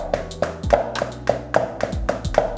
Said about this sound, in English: double kick. So every time you hit the pad, you also play with your feet.